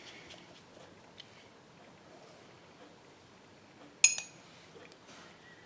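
A paintbrush is swished in a glass of water, giving one sharp, bright clink against the glass partway through, amid a quiet, faint background.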